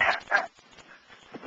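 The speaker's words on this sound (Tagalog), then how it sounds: "Ma'am, may aso kayo?" A dog gives two quick close barks, then a few fainter yips and whimpers trailing off, with no one speaking.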